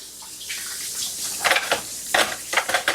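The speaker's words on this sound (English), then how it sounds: "I gotta wash my hands" Tap water runs steadily into a kitchen sink while hands are washed mid-way through baking biscuits from scratch, with splashing bursts as the hands move under the stream. The sound is close and there is no talk.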